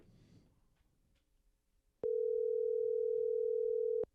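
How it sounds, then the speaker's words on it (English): A telephone call rings out on a podcast, a steady single-pitched electronic tone holding loud and unbroken for about two seconds after a quiet stretch of faint room noise. "Let's give H Dog a ring, see what happens"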